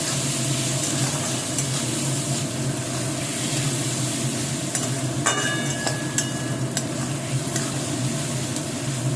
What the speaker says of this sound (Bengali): আবারও ভালোভাবে ফ্রাই করে নেব